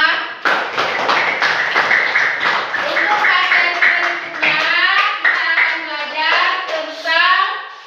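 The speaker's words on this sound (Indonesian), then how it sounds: "Tepuk tangan untuk kita semua." Children in a classroom clap their hands together in a dense, steady round of applause lasting several seconds, with kids' voices chattering and calling out over the clapping throughout.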